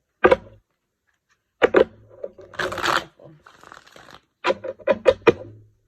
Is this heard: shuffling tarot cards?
yes